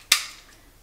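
A lighter struck without catching gives a single sharp, close click-scrape that fades quickly into near silence.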